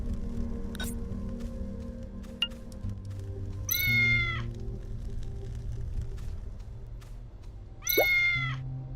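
A cat meows in the video game Tales of the Neon Sea: two drawn-out, wavering meows, one in the middle and one near the end, ring out clearly over a steady low hum and soft game ambience.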